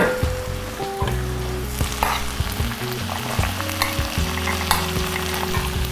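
Pre-cooked shrimp and tofu are stir-fried for Thai fried rice noodles, with a loud continuous sizzle and scraping stirring strokes over tonal background music.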